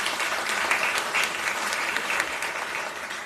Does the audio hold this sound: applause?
yes